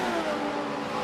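Race cars in the Michelin Pilot Challenge roar at full throttle around the carousel at Road America, a dense, loud, sustained engine blare with no talk.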